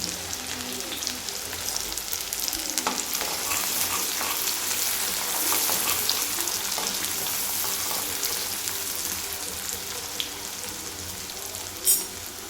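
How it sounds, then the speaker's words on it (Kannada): Green chillies, sliced onion, curry leaves and fresh ginger fry in oil with a soft, steady sizzle that sounds close to light rain. A few light stirs and clicks sound over it, and one brief knock comes near the end. "ಈಗ ಇದನ್ನು ಸ್ವಲ್ಪ ಬ್ರೌನ್ ಕಲರ್ ಆಗೋವರೆಗೆ ಇದನ್ನು ಚೆನ್ನಾಗಿ ಫ್ರೈ ಮಾಡ್ಕೊಳ್ಳೋಣ"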